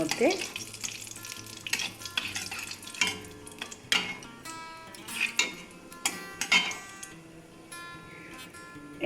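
Whole cumin seeds frying in oil, a bright continuous sizzle punctuated by repeated metallic scrapes and clicks of a spatula stirring the pan up close.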